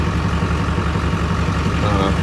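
A Duramax diesel pickup truck engine idles steadily at close range, a low rumbling pulse with even rhythm throughout, with no clear speech over it.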